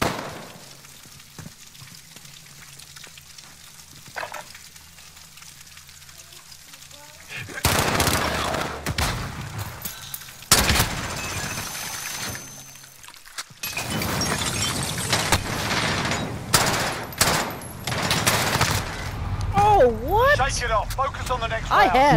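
Rapid gunfire in a shooter video game, bursts of automatic shots and cracks crowding the second half, loud and close, with a player talking over the action throughout.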